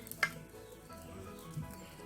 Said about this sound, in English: I'm gonna saute the vegetable for 2 to 3 minutes